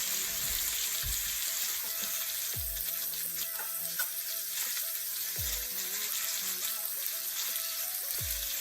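Butter melting and sizzling in a pan alongside chicken, a close, steady crackling fry with repeated low thuds and bursts of spatter at intervals.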